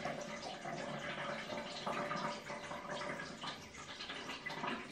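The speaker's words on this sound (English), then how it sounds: "I'm gonna get the hot water on" Hot water running from a tap into a sink, a steady broadband splashing hiss that stays even in level for several seconds, close and alone.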